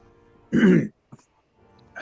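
A single short throat clear, fairly close, followed by a faint click and quiet breathing.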